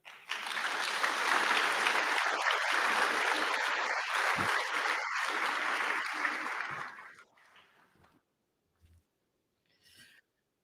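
Audience applause at an integrity symposium following a presentation, a dense sustained clapping from a large crowd that fades out after about seven seconds, leaving a few scattered claps and near silence.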